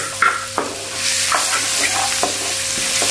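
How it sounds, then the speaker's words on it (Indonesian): Chopped onion sautéing in butter in a pan, a steady loud sizzle with occasional scrape and clack of a spatula stirring, continuous and close with no talking. "Tumis"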